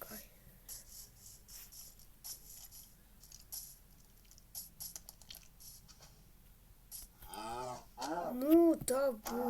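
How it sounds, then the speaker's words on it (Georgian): A cow moos in the video game Craftsman, a short rising-and-falling low call near the end, preceded by quiet keyboard clicks and faint game noise. "ძროხა"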